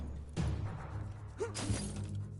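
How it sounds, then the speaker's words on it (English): Glass shatters in the video game Biomutant, a sharp crash with a bright scatter of fragments, followed moments later by a second breaking burst, moderately loud over a low ambient hum. "I was clearly able to break the glass"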